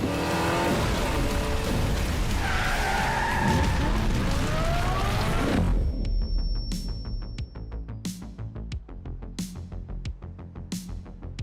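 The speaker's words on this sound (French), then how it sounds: "Sophia, on va devoir faire crisser les pneus." Car tires screech in a Hot Wheels City cartoon: a loud, sustained skid lasting several seconds, then a run of sharp ticking clicks as it dies away.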